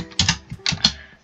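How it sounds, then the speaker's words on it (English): Clattery keys of an older Dell OEM computer keyboard typed in short bursts of clacks, close and fairly loud, with no talk. "You can hear my keyboard now because I'm using a more claggedy one. It's a Dell OEM keyboard."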